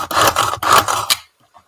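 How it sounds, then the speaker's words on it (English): A small hand-operated onion chopper chops onion in a kitchen, giving a few quick rasping, scraping strokes in a short burst that ends abruptly, close and fairly loud. "I love my little onion chopper."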